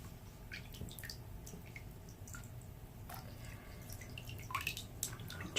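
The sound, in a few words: hand moving bath bomb around in bath water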